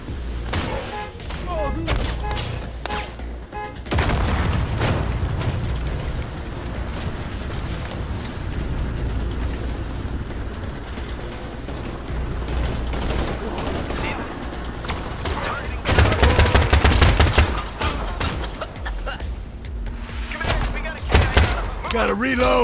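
Heavy gunfire in the Crime Boss: Rockay City heist game, with sustained loud volleys and bursts of shots, rumbling booms and sharp cracks, mixed with game music and voices calling out during a shootout.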